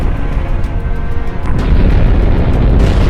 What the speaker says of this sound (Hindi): अचानक बड़ा धमाका हुआ।